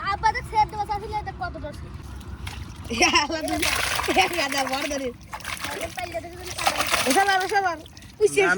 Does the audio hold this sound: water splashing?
yes